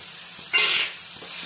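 Ginger paste hits a hot pan for an egg bhuna curry and sizzles in one loud burst, then settles into a steady low frying hiss with faint stirring taps.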